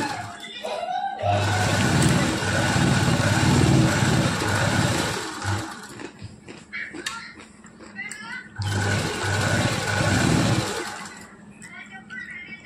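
A sewing machine stitches a long frock in two sustained bursts of fast, steady whirring, each lasting a few seconds, with someone talking in the pauses between them.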